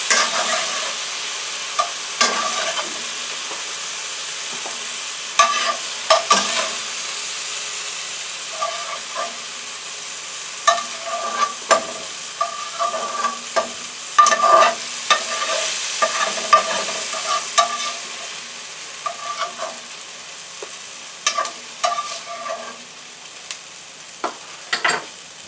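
Vegetables stir-fry in a frying pan with a steady sizzle and hiss, punctuated by repeated scraping and tossing clatters of a utensil against the pan, close up and continuous.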